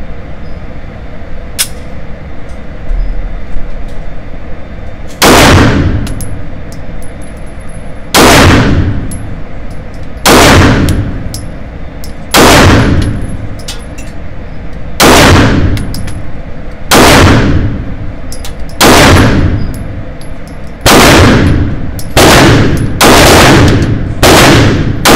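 A Smith & Wesson M&P Shield 9mm pistol, fitted with extended magazines, fires at an outdoor range: about eleven loud, sharp gunshots spaced a few seconds apart, speeding up toward the end, with no talking.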